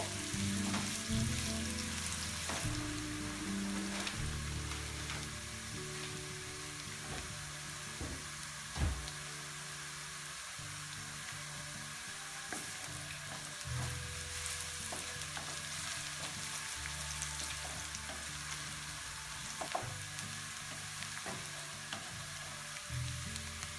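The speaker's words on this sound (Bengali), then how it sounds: "এখন পেঁয়াজ কুচি দিয়ে দিব পেঁয়াজটা আমি অল্প ভাজবো" Chopped onion frying in a generous amount of oil for vegetable macaroni, a continuous close sizzle with repeated scraping and stirring knocks from a utensil against the pan, no voices over it.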